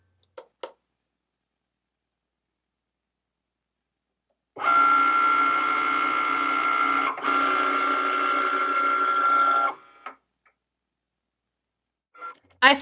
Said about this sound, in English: Press the Cricut button to start.